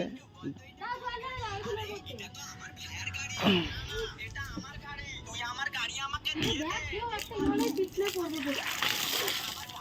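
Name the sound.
water being poured and splashing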